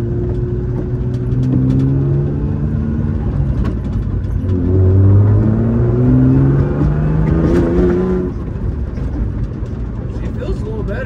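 A car fitted with a homemade exhaust accelerates hard, its engine note climbing loud and rough through rising pitch, easing off briefly and then pulling again before settling, heard from close by.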